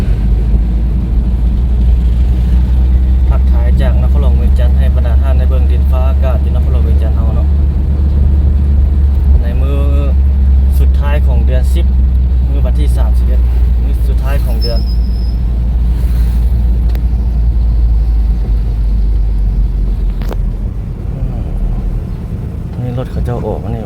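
Street traffic in Vientiane, Laos, with a continuous loud low rumble of cars and engines passing nearby and occasional brighter clanks and horn-like tones, while someone talks over it throughout.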